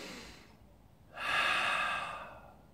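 Slow, deliberately exaggerated breathing during moksu, the seated meditation before the bow in a martial arts class: a quiet drawn-in breath followed by a long, strong airy exhale, heard alone with no talking.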